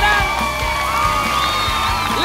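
A studio audience at the Canta Conmigo 2011 televised children's singing show in Panama cheers, whoops and applauds loudly, with shouting voices riding over sustained crowd noise throughout.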